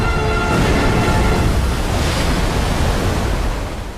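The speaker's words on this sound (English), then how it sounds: "The Gleipnir's falling. The Gleipnir is crashing." The Gleipnir aircraft crashing in Ace Combat X, a loud, dense rumbling roar of wind-like noise that holds steady and then slowly fades.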